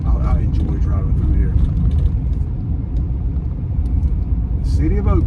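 Old Chevy S10 pickup truck driving through city streets, a steady low engine and road rumble heard from inside the cab, loud and continuous, with a voice talking over it.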